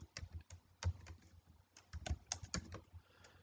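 Quick, irregular keystrokes on a computer keyboard as an email address is entered during sign-up for a new account, with close, crisp clicks in short bursts and brief pauses in between.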